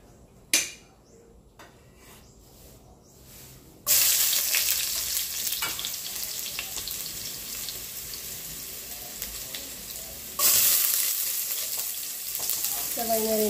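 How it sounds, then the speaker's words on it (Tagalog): Onion and garlic hit hot cooking oil in a pan, bursting into a loud, close sizzle that settles into steady frying, with clinks and stirring, a second surge of sizzling as more goes in. "Naglagay tayo ng cooking oil. Next sa cooking oil, onion, garlic."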